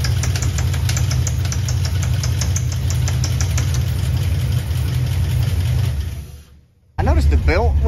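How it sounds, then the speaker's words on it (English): An engine runs with a steady low rumble and rhythmic knocking from a car AC compressor clutch engaging on a misaligned belt and pulley, then fades nearly to silence before returning loudly. "When the compressor engages the clutch, it's misaligned immediately and the belt can't decide which rib it wants to run on the compressor pulley."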